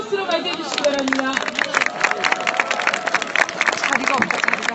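An audience at an outdoor rally applauds to welcome a speaker, a lively patter of clapping and crowd noise that runs throughout, with voices speaking over it.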